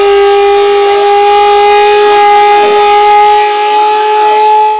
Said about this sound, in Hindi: लखनऊ की पुलिस लाइन सायरन बज रहा है